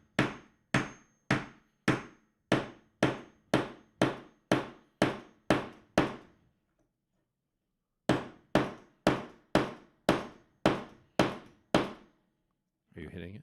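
Hammer blows on a metal conduit fitting, struck in two steady runs of about ten hard, evenly spaced hits each, separated by a short pause, loud and close with a brief rumble at the end.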